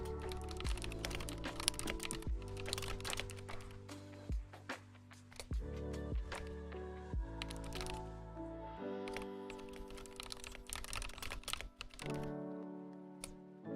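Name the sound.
typing on a computer keyboard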